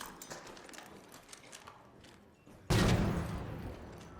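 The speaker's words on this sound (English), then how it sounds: "Throwing another nade." A grenade explosion in a video game, a single loud blast landing partway through after quieter scattered in-game noises, with the boom's rumble trailing off to the end.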